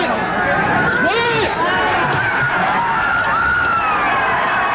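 A loud, continuous roar of crowd noise with shouting and screaming voices rising and falling over a dense babble, close and unbroken throughout.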